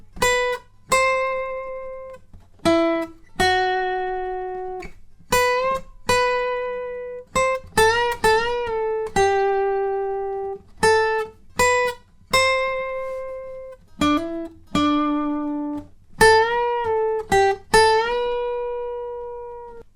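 A clean electric guitar plays a solo, a close, clear melodic line of sustained single notes and bends with short quick runs, alone without other instruments or voices.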